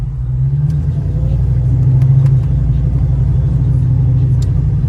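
A 1990 Ford Mustang GT's original 5.0 302 V8 rumbles low and steady from inside the moving car on a test drive, with a deep continuous drone and a slight swell in revs.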